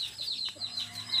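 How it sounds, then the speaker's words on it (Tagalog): Faint high chirps and soft clucking from breeding chickens and their newly hatched chicks, several quick calls in a short burst over a quiet background. "binibreeding natin na manok"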